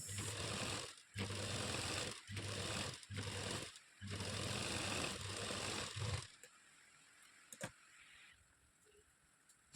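A sewing machine stitches gilt trim onto a garment, running in several loud steady bursts with short pauses, then stopping and leaving a quiet room with faint clicks.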